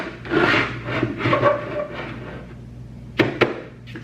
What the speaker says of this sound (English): if you see some shiny parts of your print, that means you need to sand a little bit more